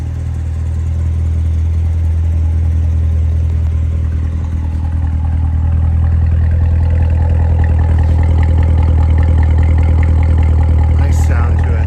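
A supercharged 650 hp 2019 Chevrolet Corvette Z06 runs steadily nearby, a loud, deep, continuous engine drone that swells slightly toward the end.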